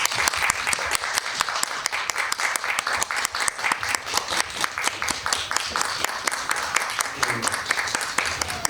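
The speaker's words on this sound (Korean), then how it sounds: "무대로 입장하실 때 박수로 환영 부탁드립니다." An indoor cinema audience applauds steadily to welcome a film director and cast onto the stage at a post-screening talk, dense continuous clapping throughout with a faint voice underneath.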